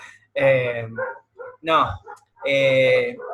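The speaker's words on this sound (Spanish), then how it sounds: "tengo mis perros que están toreando bastante fuerte, porque hay gente afuera" Pet dogs bark loudly at people outside, heard over a Zoom call in three close, sharp bursts with short pauses between them.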